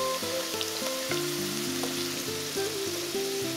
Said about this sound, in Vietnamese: cho dầu vào chảo và cho khoai tây vào chiên cho săn mặt là được nha